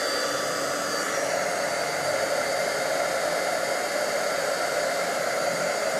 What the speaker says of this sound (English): I'm just going to heat up my heat tool just for a few seconds to make sure it's really hot.